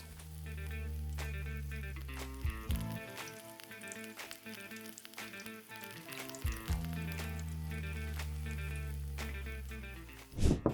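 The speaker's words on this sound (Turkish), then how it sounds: "Altın sarısı olana kadar her yüzeyini güzelce kızartıyoruz." Potatoes and eggs sizzle and crackle steadily in hot oil, close by, with occasional pops and soft clinks of a utensil.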